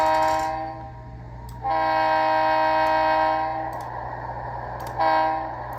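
Leslie RS3 locomotive horn sounded by a Digitrax model train sound decoder, two sustained chord blasts with a short gap between and a brief third toot at the end, set over a constant low motor hum.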